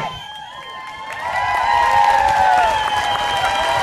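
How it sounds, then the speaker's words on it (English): A crowd cheers and claps for Ed, a loud swell of yelling and applause that builds after the first second and holds steady to the end, with no talk over it. "maybe we can do a 1, 2, 3 Ed cheer"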